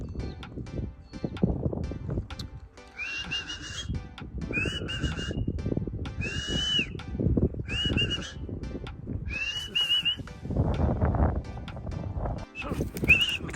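Repeated short whistled calls used as a signal for arriving racing pigeons during a 12-lap race, sounding in several bursts of rising and falling tones over steady outdoor background noise and rustling.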